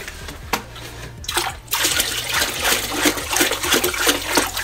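Water poured over rocks into a freshly set-up Fluval EVO 13.5 aquarium, a steady rushing splash that starts in bursts and then runs continuously at close range, with no talking.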